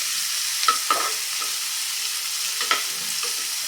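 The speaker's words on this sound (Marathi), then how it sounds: "यामध्ये एक बारीक चिरलेला कांदा घालते हा देखील छान परतून घेऊया" Finely chopped onion sautéing in butter with ginger-garlic paste in a pan, a steady close sizzle with a few light stirring scrapes, no talking.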